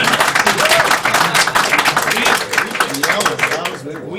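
Audience applause and clapping at a speedrun marathon charity event, a dense, steady wash of many hands clapping loudly for about four seconds before thinning toward the end, with voices mixed in.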